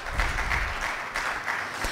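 An audience applauds a panelist being introduced at a renewable energy discussion in Kenya, giving a short burst of close, even clapping.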